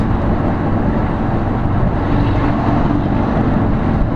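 A loud car exhaust roars past on the road, a dense, steady rush of engine and road noise close to the microphone with no talking.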